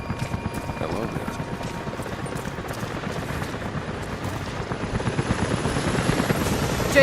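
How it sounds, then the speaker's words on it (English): A helicopter's rotor thumps in a steady rapid beat in Rise of the Tomb Raider, growing louder as it approaches, with a high engine whine above. "helicopters are headed your way"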